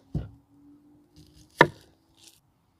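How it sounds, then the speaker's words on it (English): Two sharp knife chops on a cutting board as the ends are cut off onions, separated by about a second and a half of near silence, close and distinct. "just cut your ends off your onions"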